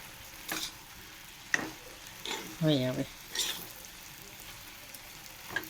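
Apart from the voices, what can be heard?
food frying in a pan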